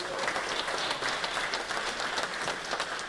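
A crowd applauds to welcome a pastor at a patriotic prayer meeting honouring veterans of the Korean and Vietnam wars. The steady, dense clapping carries on throughout.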